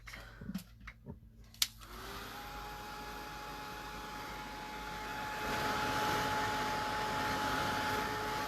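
A handheld hair dryer blows steadily close by while drying wax on an altered box frame craft. A few soft clicks and knocks come before it starts, then a constant whooshing hum that grows slightly louder partway through.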